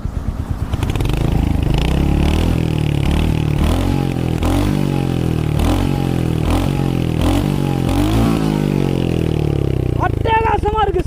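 A Royal Enfield Hunter 350 motorcycle's single-cylinder engine and exhaust rev up and down nearby, loud and throbbing, with repeated throttle blips over a steady idle thump.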